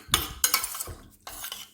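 A spoon stirring olive oil and yogurt together in a bowl for a chicken Caesar salad marinade, giving three short bursts of scraping and clinking close by, with brief pauses between strokes.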